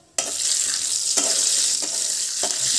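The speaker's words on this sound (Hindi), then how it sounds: "अभी इसमें डालते हैं काजू को, थोड़ा सा फ्राई कर लेंगे हल्का सा" Cashews fry in hot oil on a low flame, a steady close hiss that starts abruptly and holds loud throughout, with a few soft scraping stirs breaking through.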